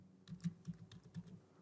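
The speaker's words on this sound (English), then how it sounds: "Now I am typing my name" Keys tapped on a computer keyboard while entering a name, a quick run of about five or six distinct close clicks with a soft, steady rhythm.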